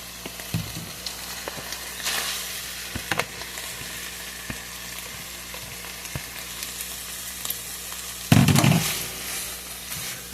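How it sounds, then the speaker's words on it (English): Ramen noodles stir-frying in a pan for a meatless meal, a continuous sizzle with scraping stirs and a louder burst of frying near the end. "I am going to be adding my ramen noodles in now"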